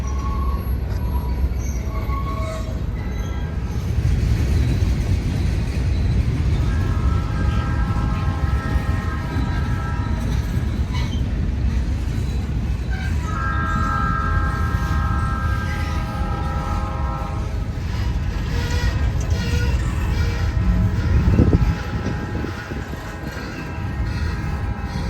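A freight train on the Alabama Southern line near Columbus, Mississippi rumbles past with a heavy low roar as its locomotives sound a horn in several long, loud blasts. Wheels squeal faintly near the end.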